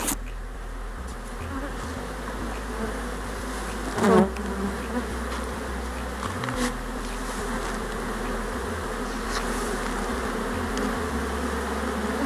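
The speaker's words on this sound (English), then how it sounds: "That's a lot of bees on there." A swarm of honey bees buzzes around a hive, a dense, continuous drone close to the microphone. One brief louder burst comes from a bee passing nearby.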